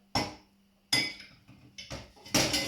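A small pot dropped into a kitchen sink during chocolate-almond spread making gives a few sharp metallic clanks and rattles at close range, spaced over about two seconds with no talking.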